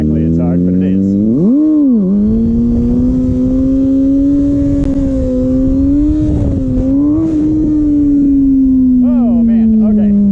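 A Kawasaki ZX6R motorcycle runs fast during riding practice. Its loud, sustained engine whine swoops through a quick rev early on, then holds a high steady pitch that wavers slightly, with rushing wind noise underneath throughout.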